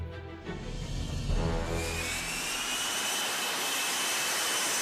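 An F-35B jet engine, its thrust coming from a rotating rear nozzle, roars loudly. A deep rumble gives way to a sustained, rising high-pitched whine and hiss that holds to the end.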